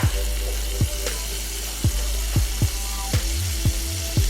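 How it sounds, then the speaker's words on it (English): Half a stick of butter melting in a pan for shrimp fried rice, a steady loud sizzle with periodic clinks and scrapes as it is moved around. "So I'm about to just add in a half a stick of butter. And then you just wanna let that melt on down."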